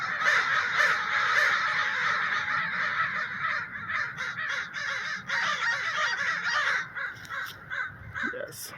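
A crow in a Portland, Oregon park gives a steady run of loud, honking caws much like a Canada goose, repeated over background bird chatter and a faint murmur of voices.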